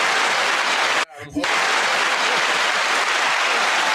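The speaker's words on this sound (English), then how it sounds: "Where's the hand claps?" Steady, broad clapping from a live show audience fills the stretch, briefly cutting out around one second before resuming just as thick and constant.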